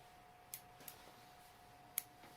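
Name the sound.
trimming the tail of a Mega Minnow fly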